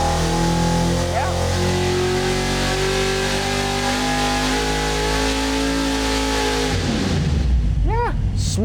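A supercharged, fuel-injected 1972 Chevrolet C10 truck engine revving loud and close, holding a strong, even drone before the pitch shifts and drops near the end.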